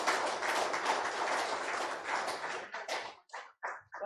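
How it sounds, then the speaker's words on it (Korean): A lecture audience applauds warmly, with dense, loud clapping that holds for about three seconds before thinning into a few scattered final claps. "뜨거운 박수 부탁드립니다."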